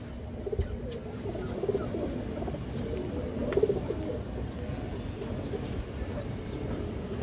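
A female pigeon coos in soft, low bursts against a busy background of many birds and rustling, the cooing recurring every second or two.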